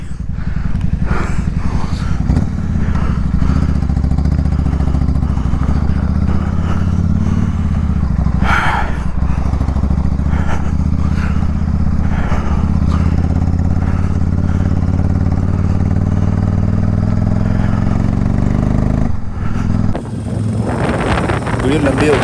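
A motorcycle engine and exhaust run loudly on a mountain road near Pangong Tso in Ladakh, a steady low drone that rises in pitch with wind buffeting the microphone before it cuts off near the end.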